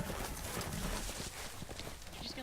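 Horse hooves clip-clop in the video game Game of Thrones Telltale, a quick run of close hoofbeats over a noisy ambient game soundscape.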